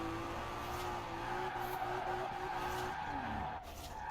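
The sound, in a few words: tire skidding while drifting in the video game Forza Horizon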